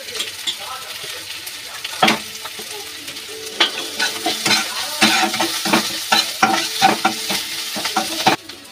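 Green chilli and julienned ginger frying in oil in a pan, with a loud continuous sizzle and repeated sharp spatula scrapes and knocks that grow busier toward the end; a faint voice can be heard now and then.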